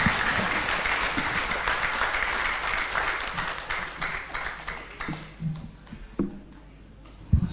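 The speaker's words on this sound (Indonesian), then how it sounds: "Tepuk tangan yang meriah untuk Ibu Titi Soeharto." Audience applause for Ibu Titi Soeharto after her speech at an assembly, a dense, loud burst of clapping that thins and fades toward the end, with a few scattered claps left.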